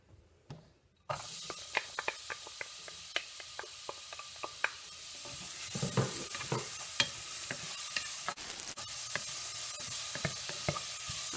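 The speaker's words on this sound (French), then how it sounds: "Je vais rajouter mes oignons." Onions fry in oil over medium heat, a soft steady sizzle punctuated by repeated clicks and scrapes of a utensil stirring in the pan, close and quiet.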